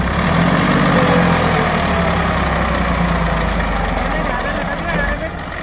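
A tractor engine pulling a cultivator runs loud and close with a steady, throbbing drone that eases slightly near the end, while voices talk over it.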